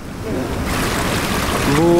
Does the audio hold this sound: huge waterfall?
yes